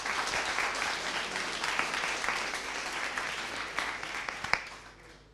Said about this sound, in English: So give him a small round of applause, Rok